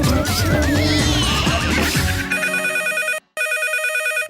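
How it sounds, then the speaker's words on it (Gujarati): During a radio comedy show, an electronic telephone ring trills in repeated bursts after a horse-like whinny, loud and close, with a brief gap between rings. "ફોન આવ્યો"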